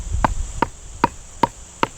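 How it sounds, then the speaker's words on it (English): A Lengren Sentry knife cuts a V-notch into wood outdoors: five sharp, evenly spaced knocks arrive about every 0.4 seconds, close and crisp over faint wind noise and a steady high insect-like hiss. "Here's that little notch that we pounded into this."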